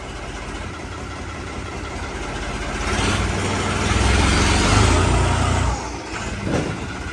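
A tractor engine idles close by with a steady low rumble that swells louder through the middle stretch before easing back, ending in a brief rise near the end.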